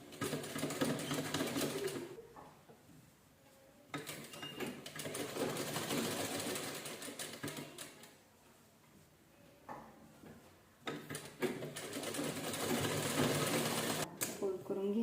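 A sewing machine stitching the folded edge of an old towel runs in fast, even bursts of mechanical clatter, pausing briefly between runs, close and fairly quiet, with a voice speaking over it at times.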